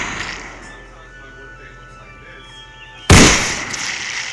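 A single sharp gunshot goes off in a zombie video game mod, a loud abrupt blast after a stretch of quiet game ambience, its crack ringing on briefly before fading.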